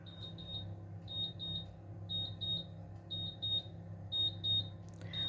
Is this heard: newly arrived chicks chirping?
no